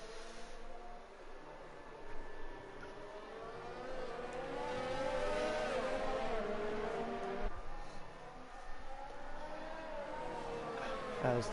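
F3 race cars at the Hungarian Grand Prix roar past in the racing game, their engine notes rising and falling as they sweep by one after another in a continuous, fairly close stream.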